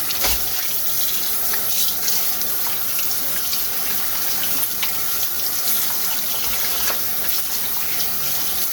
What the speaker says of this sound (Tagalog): Hugasan natin mabuti dahil karne siya.